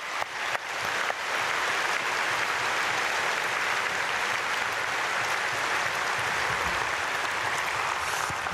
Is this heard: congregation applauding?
yes